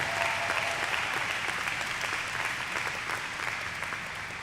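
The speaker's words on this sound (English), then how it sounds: "let's give a round of applause to the graduating class of" The crowd at a Springfield College graduate commencement applauds the graduating class of 2023, the sustained clapping dense and loud, easing slightly toward the end.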